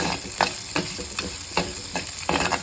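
Green and dried red chillies sauté in a pan of oil with a steady sizzle, broken by repeated scraping stirs of a spatula at a close, moderate level, and no talking.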